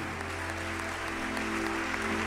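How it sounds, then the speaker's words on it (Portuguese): A church congregation claps together in steady, dense applause that fills the room evenly and stays loud for the whole brief moment. "Irmãos, uma salva de palmas para o general de Deus em nome de Jesus."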